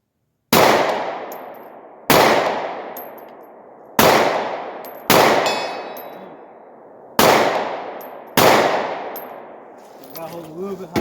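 Glock G43 pistol fired at a 2-foot steel target 65 yards away, six loud single shots spaced one to two seconds apart, each with a long echoing tail, and faint speech at the end.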